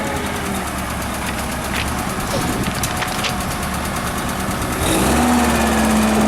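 A 2002 Yale GLC040AFNUAE propane forklift with automatic transmission idles steadily nearby, a continuous low engine rumble that swells louder near the end as a rising whine joins in.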